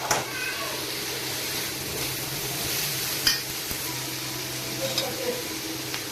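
Cooked cluster beans frying in a spice tempering, a steady low sizzle with a few soft stirring clinks and scrapes, moderately close and without voices.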